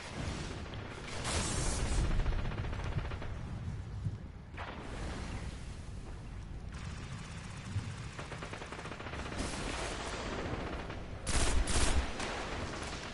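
Sustained automatic and repeated gunfire in a zone-capture multiplayer match of the video game Destiny, with steady overlapping bursts and a few louder blasts near the end.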